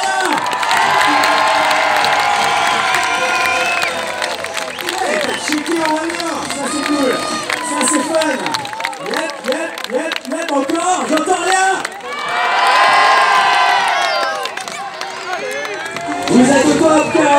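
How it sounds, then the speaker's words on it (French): A crowd at an outdoor bike and motorbike stunt show in Cahors cheers, shouts and whistles loudly, with children's yelling, scattered clapping and excited voices throughout, swelling again near the end. "Vous pouvez l'applaudir, j'entends rien."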